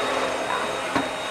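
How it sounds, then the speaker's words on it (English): A very small household vacuum cleaner runs with a steady, fairly loud whirring drone, with a brief bump in the sound near the end and no clear speech. "Now I'm just vacuuming because I'm bored."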